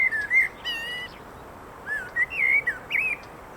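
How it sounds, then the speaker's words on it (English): Songbirds including common blackbirds and starlings sing from hedgerows at a York nature reserve, with several clear whistled phrases and chirps rising and falling over steady outdoor background noise, fairly close and bright. "the number of songbirds. The songbirds are just phenomenal. Everything from just your common blackbird,"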